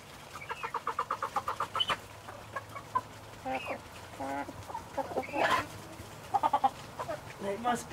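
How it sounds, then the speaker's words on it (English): Icelandic chickens clucking in a barnyard, a run of quick rhythmic clucks followed by scattered bursts of cackling, close and moderately loud, with a person talking over parts of it. "All the Icelandic chickens make it out."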